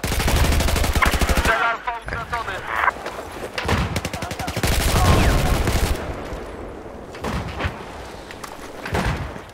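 Bursts of rapid sniper and other gunfire in the video game Battlefield 4 multiplayer crack and rattle close by, with heavy impacts and a thud in between, loud and chaotic throughout.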